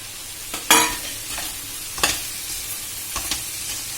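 Vegetables with salt, red chili powder and turmeric being stirred in a hot pan, a steady sizzle with several distinct scraping strokes of a spoon, close and fairly loud with no talking.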